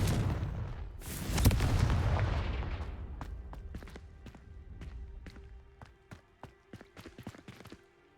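A Confringo blasting curse goes off in Hogwarts Legacy as a loud explosive boom that rolls into a long fading rumble, followed by a run of sharp crackling impacts and quick footsteps.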